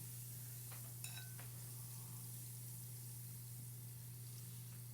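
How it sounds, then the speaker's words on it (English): Homemade bath salts fizz in warm water with a soft, steady hiss and a low hum underneath. A couple of faint clinks are heard early on. "you can hear it and it's fizzing up"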